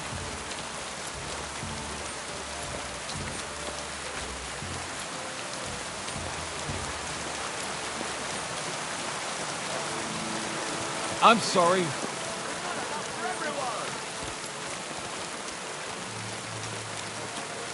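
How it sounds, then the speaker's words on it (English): Steady rain falls in the medieval video game Kingdom Come: Deliverance II, a constant hiss of drops on surfaces throughout, with a short spoken line and a brief louder knock partway through. "Don't mind the rain."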